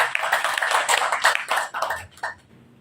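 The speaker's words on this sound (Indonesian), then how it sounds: "Tepuk tangan dulu." An audience at a Riau customary council gathering claps in a short, uneven burst of hand claps that tapers off into quiet.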